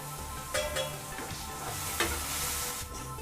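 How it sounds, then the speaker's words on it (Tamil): Tomatoes and onions sauté in a pan, a soft continuous sizzle with a few scraping stirs, fairly quiet and with no voices. "ஒரு 2 நிமிஷம் வரைக்கும் தக்காளி வெங்காயம் கொஞ்சம் வதங்கட்டும்"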